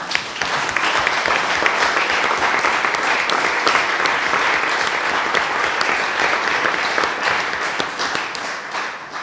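Steady applause from a municipal council meeting, loud and sustained for several seconds, with a faint murmur of voices beneath the clapping.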